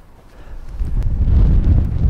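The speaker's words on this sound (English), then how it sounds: "these cameras look as though they're about to blow over at any minute. It is that strong of a wind." Strong wind on a golf links, reaching about 40 mph, roars and buffets the microphone, building from a light rush into a heavy, continuous low rumble.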